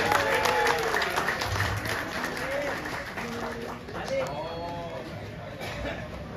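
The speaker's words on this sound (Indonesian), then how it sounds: "Boleh tepuk tangannya semua Bapak Ibu." Audience at an Indonesian public gathering in Jakarta claps steadily for several seconds, a dense moderately loud patter with voices and crowd chatter running underneath throughout.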